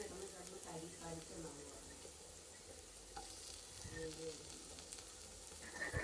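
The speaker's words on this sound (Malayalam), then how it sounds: "സവാള നന്നായിട്ടൊന്ന് വഴറ്റിയെടുക്കണം." Sliced onions sautéing in a pan for a prawn dry fry, a steady sizzle with scraping stirs, close up, while a person talks over it now and then.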